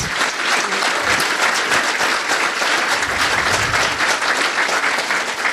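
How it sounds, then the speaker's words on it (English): Sustained audience applause at a university alumni awards ceremony, many people clapping in a full, even roar that holds steady from start to finish. "I think that deserves a round of applause"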